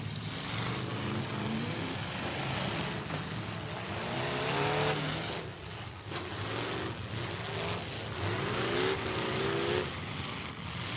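Race cars running on the Bristol Motor Speedway track, loud engines roaring and revving as they pass, pitch sweeping up and down over a continuous close, dense engine drone.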